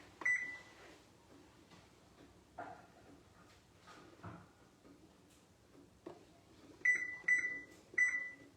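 A kitchen timer is set and beeps in short bursts, with a few clicks and knocks of handling in between and a cluster of three quick beeps near the end, all close by with no talk.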